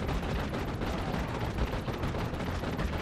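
Dense, continuous gunfire and blasts roar through a chaotic fight in the video game Vicious Attack Llama Apocalypse, with rapid overlapping bursts and booms filling the whole stretch at a steady, loud level.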